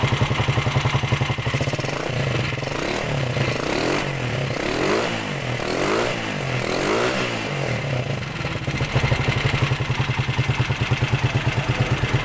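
A small engine on a newly assembled push-cart frame idles with a steady rapid chatter, then revs up and down in several rising and falling surges before settling back to a loud, even idle.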